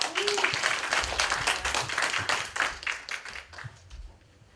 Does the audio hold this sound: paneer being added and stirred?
no